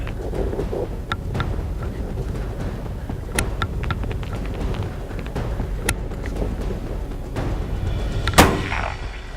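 A hunting rifle shot aimed at a buck rings out once near the end, a sharp loud crack with a brief echo, following fainter distant pops over steady outdoor wind noise.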